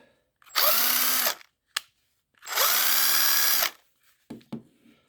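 A DeWalt DCP815 impact driver with a not fully charged battery runs in two sustained bursts of about a second each, near and loud, with a short tap between them and faint knocks at the end.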